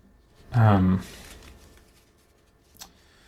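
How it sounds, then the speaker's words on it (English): A quick burst of cards riffling together, a short loud fluttering rush, followed by quiet and a faint tap near the end. "I can do a little better at a riffle shuffle"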